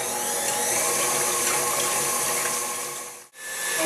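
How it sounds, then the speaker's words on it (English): An electric mixer whips six eggs for a sponge cake with a steady, loud whirring drone that runs almost unbroken, dipping out briefly near the end. "We're going to whip these up for about a minute."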